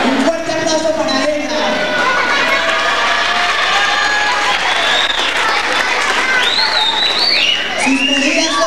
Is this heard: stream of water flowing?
no